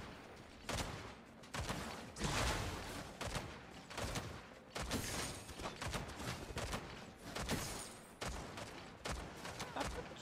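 Rapid video game gunfire in Predecessor sounds in dense bursts and volleys, fairly faint and continuous with short gaps, under a busy battle mix.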